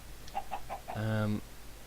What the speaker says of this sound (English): As you could probably hear, I've got some chickens.